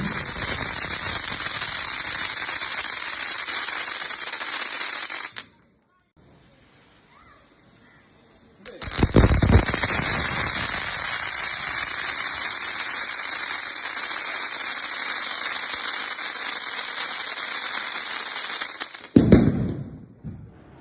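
Diwali firecrackers going off outdoors, long stretches of dense hissing, crackling bursts with a short quiet gap between them and a sharp louder pop near the end.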